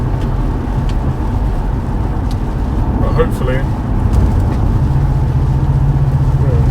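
Audi RS6 engine accelerating while driving in the rain, a steady loud low rumble that grows slightly stronger toward the end, with a person talking briefly over it.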